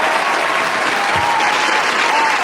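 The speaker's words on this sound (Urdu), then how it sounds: "تالیوں سے استقبال کیجیے" A mushaira audience gives the poet Rahat Indori a welcoming round of applause: dense, loud, sustained clapping from a large crowd with no break.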